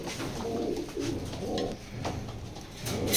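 Racing pigeons coo close by in repeated soft, throaty phrases, several in quick succession.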